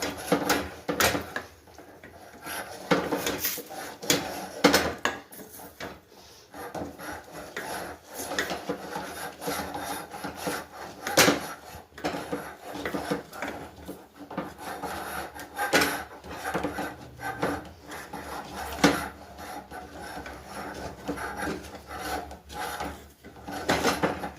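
Flour dough for papad being mixed by hand, giving a steady scraping, rubbing rasp with irregular strokes, close and fairly loud with no talk.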